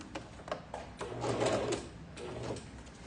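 A domestic sewing machine stitching a backstitch on fabric, short bursts of rapid mechanical whirring that stop and restart, fairly close and moderately quiet.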